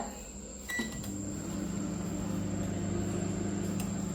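A kitchen oven, microwave type, runs with a steady low mechanical hum while homemade pizza bakes inside, a faint click near the start and a constant tone throughout, no voices.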